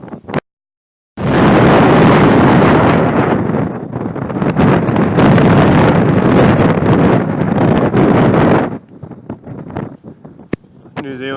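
Strong New Zealand wind buffets the microphone in a loud, continuous roaring rush for several seconds, then drops away to quieter gusts.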